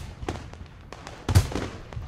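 Fireworks burst in the night sky above a school in the visual novel Katawa Shoujo. The booms are muffled and distant, with several soft pops and one stronger thump.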